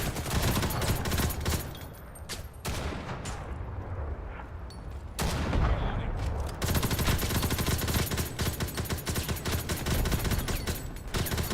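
Machine gun fire in the online shooter Ghost in the Shell: Stand Alone Complex – First Assault: dense, sustained bursts of rapid shots, loud and close, breaking off briefly twice before resuming.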